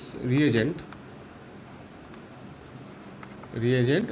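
Scratchy strokes of writing on a board continue steadily between stretches of a teacher's speech, close and moderately loud.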